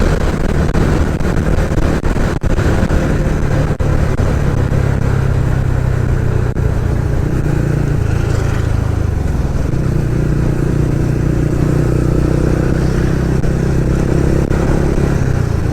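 A convoy of about twenty motorcycles rides along East Coast Road between Pondicherry and Chennai, making a loud, steady engine drone with shifting pitch as the bikes rev and cruise close by, with no talking.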